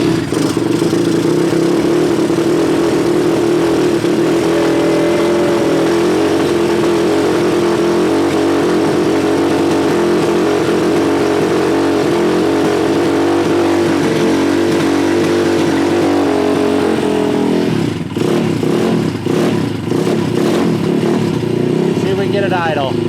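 A Redline 212 small engine running steadily just after its first start, a loud, close, continuous idle drone that shifts and turns rougher near the end, with a voice talking over it.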